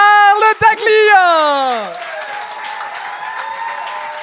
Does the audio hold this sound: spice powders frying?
no